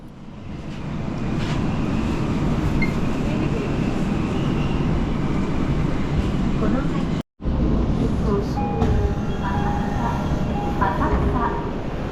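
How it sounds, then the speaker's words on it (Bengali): A Tokyo Metro Ginza Line subway train heading toward Asakusa rumbles steadily underway, with constant rolling noise and faint voices or announcements in the background. "সেখান থেকে গিনজা লাইন ধরেছি, যাব G19 বা আসাকুসা।"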